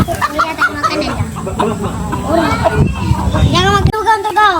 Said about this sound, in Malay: tadi nampak ada ayam ni